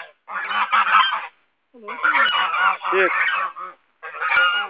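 Geese honk loudly and close by at a countryside farm, three raucous bursts of overlapping calls separated by short pauses.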